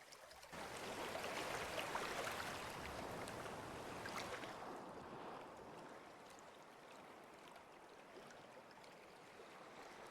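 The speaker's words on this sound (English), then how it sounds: "This is a whispering creek. It's very much not whispering." Loud, rushing water from a creek billed as whispering, a steady broadband roar of flowing water filling the whole stretch with no voices, easing slightly in the second half.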